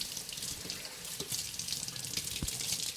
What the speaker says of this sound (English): we're going to make sure that we rinse this very well to make sure there's no dirt or debris on the leafy greens